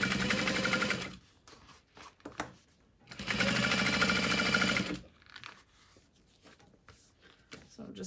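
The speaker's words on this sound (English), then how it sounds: "I'm folding that seam up towards the black piece because we're top stitching through that." A sewing machine top stitches a seam on a tote bag, two loud bursts of rapid close stitching separated by quiet handling of the fabric, with light rustling and clicks in the pauses.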